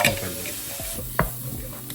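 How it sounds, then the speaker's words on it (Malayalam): Prawn curry masala sizzles softly in the pan after hot water is added, with a spoon stirring through it and one sharper scrape partway through. "ഈ സമയത്ത് ഇതിലേക്ക് ഒരല്പം ചൂടുവെള്ളം ഒഴിച്ചു കൊടുക്കട്ടെ, ഇത് പെട്ടെന്ന് കുക്കായി കിട്ടും"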